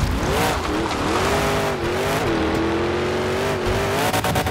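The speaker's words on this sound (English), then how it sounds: "The engine sounds in Showdown are nothing short of spectacular." A monster truck engine roars steadily in the video game Monster Jam Showdown, a loud, sustained growl that rises and falls in pitch as the truck revs, heard alone.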